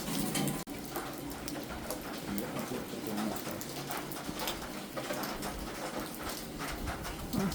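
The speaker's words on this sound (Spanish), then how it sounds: "Está lloviendo un montón, estamos todos mojados." Heavy rain falls steadily over a street in Tallinn, a dense constant patter close by with a brief sharp knock near the start; pigeons coo faintly in the wash.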